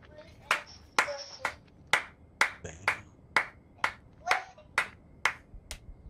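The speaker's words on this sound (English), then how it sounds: "That's Lord clapping his own butt cheeks together." Rhythmic, evenly spaced claps from a character in the video game Insurgency Sandstorm, about a dozen sharp slaps in steady succession, fairly close, with faint background game noise between them.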